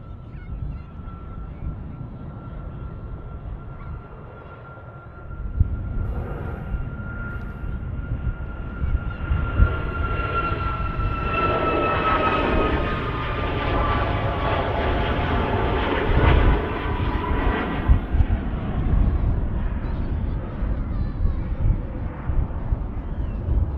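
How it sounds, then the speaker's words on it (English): A Boeing 747 passes overhead near Manchester Airport. Its engine roar swells from a distant hum into a loud, sustained rumble with a rising whine, then stays steady throughout. "Would love to know what company 747 is above Cumbria right now."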